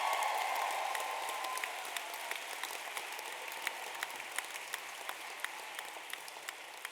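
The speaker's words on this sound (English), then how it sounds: "A round of applause for everyone that took part." Graduation ceremony audience at a drama school applauds, a sustained, fairly distant wash of clapping that starts fuller and gradually thins, with scattered sharper claps near the end.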